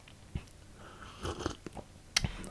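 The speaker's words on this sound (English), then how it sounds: "That's me sipping coffee." Quiet coffee sipping close by: a few soft slurps and small mouth sounds scattered unevenly over a faint background hush, with no talking.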